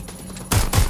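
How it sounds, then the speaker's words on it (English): Close, loud bursts of rapid automatic gunfire in the video game Watch Dogs: Legion erupt halfway through after a quieter moment, with rattling shots in quick succession. "Sounds like gunfire."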